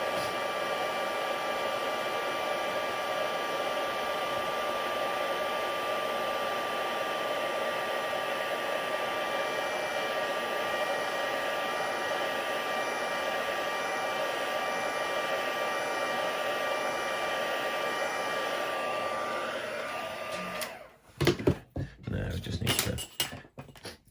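Craft heat tool blowing to set ink on a handmade card, a steady close whooshing hum for about twenty seconds before it cuts off, followed by brief handling knocks and rustles.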